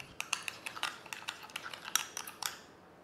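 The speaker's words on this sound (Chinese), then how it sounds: "然后我们搅拌均匀就可以" A spoon stirs a sauce of chili bean paste, ketchup, white vinegar and sugar in a bowl, giving a series of quiet, irregular clinks and scrapes close by.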